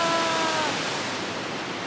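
Steady broadband roar of rushing water from a waterfall along the Mist Trail in Yosemite, continuous and loud from start to end with no talking.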